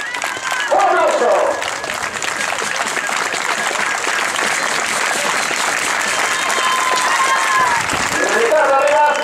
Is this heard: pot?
no